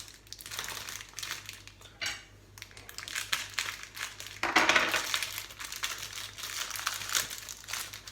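Puff pastry is unrolled on its own baking paper, giving close crinkling and crackling with a sharper burst of rustle midway, and no voices.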